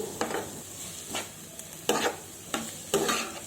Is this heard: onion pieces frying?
yes